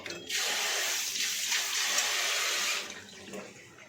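A kitchen tap runs steadily as a metal spatula is rinsed under the stream, a loud continuous gush of water lasting a few seconds before it shuts off.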